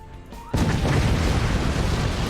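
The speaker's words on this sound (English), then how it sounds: "So you can create chain reactions with your batteries, and they will explode" Batteries in the Forts strategy game blow up in a chain reaction: a sudden loud blast after a quiet start, followed by a sustained dense roar of explosions.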